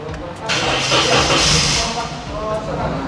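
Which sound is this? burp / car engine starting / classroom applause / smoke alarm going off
car engine starting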